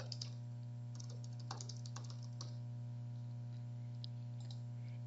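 Entries typed into a form on a computer keyboard, with soft, sparse key clicks in short bursts that thin out over a steady low electrical hum, ending in one sharper click, with no talking.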